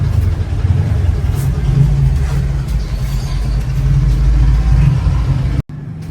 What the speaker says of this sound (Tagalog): Sorry, maingay yung mga sasakyan.